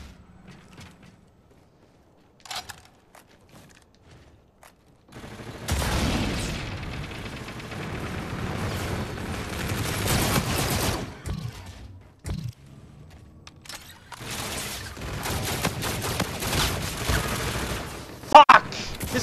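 Bursts of rapid automatic gunfire ring out in a Call of Duty Infinite Warfare multiplayer match, with long dense volleys after a quiet start and brief mechanical clicks between them.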